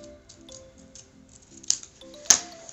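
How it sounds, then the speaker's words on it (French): Scissors cut through paper card for a handmade greeting card, with quiet snipping that ends in two sharp, close snips about half a second apart. "On vient découper ici."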